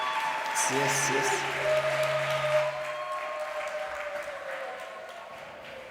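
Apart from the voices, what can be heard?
applause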